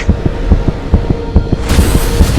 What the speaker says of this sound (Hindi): पापा के दिल की धड़कनें इतनी तेज